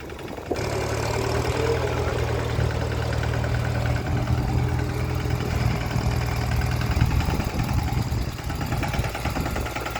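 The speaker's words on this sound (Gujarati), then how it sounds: "ખેડૂત મિત્રો બે ટ્રેક્ટર સામે ચાલી રહ્યા" A steady, heavy tractor engine drone runs throughout with a deep low rumble and rattling vibration, close and continuous, during groundnut sowing in a field.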